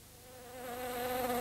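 A fly buzzes as a sound effect for a televised football segment, a steady droning hum that grows gradually louder over a short stretch with no voices.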